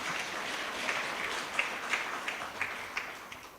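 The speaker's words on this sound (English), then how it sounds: "let's give him a round of applause" A conference audience applauds the keynote presenters at a scientific meeting, a faint, distant patter of scattered clapping in a large hall with a few sharper individual claps standing out.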